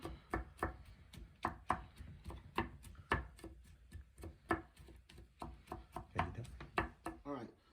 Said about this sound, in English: We are chopping garlic.